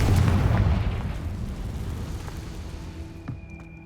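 A Confringo spell explosion in Hogwarts Legacy lands with a loud booming burst that rumbles and fades over a few seconds, followed by faint magical chimes.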